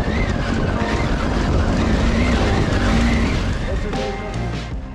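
A BMW motorcycle rides off-road on a rough Albanian Trans Euro Trail track, the engine droning loudly and steadily with shifting pitch, buffeted by heavy wind noise and easing off toward the end.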